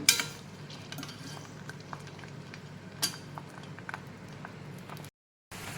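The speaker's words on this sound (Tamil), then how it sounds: "சேர்த்துக்கிட்டு கொஞ்சம் நல்லா வதக்கிக்குங்க பூண்டு நல்லா வெந்து வரணும்" Hill garlic sautéing in a pan for a pickle, a faint low sizzle with light intermittent stirring clicks and scrapes, one sharper clink midway and a momentary drop to silence near the end.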